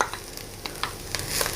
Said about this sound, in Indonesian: Diratakan ya teman-teman, diaduk-aduk sampai merata ini.